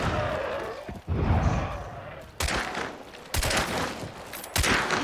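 Gunfire in the video game Hunt: Showdown, several loud sharp shots and bursts spaced a second or so apart, each followed by a rumbling tail, with brief talk between them.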